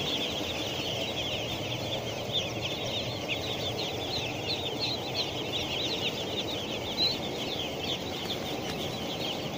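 A dense chorus of about 4,000 baby chicks peeps continuously, many high chirps overlapping in a steady, busy wash of sound indoors at a poultry farm.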